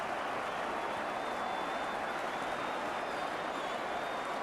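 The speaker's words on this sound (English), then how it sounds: "applause ringing round Villa Park when they know a good goal, when they see one" Crowd applause ringing around Villa Park after a goal in an Aston Villa v QPR football match, a dense, steady wash of distant clapping filling the stadium without break.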